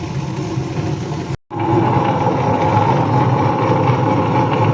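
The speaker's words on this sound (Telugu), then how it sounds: "మెత్తగా గ్రైండ్ చేసుకోవాలి." A wet grinder churns soaked ragi into smooth dosa batter, a loud, steady motor whir that cuts out for a moment about a third of the way in, then resumes evenly.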